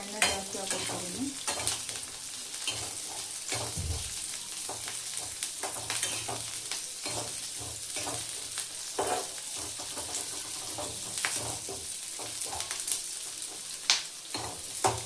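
Food frying in a small amount of oil in a pan while being stirred, a continuous crackling sizzle with repeated scraping and clinking from the stirring utensil, fairly close, with no talking.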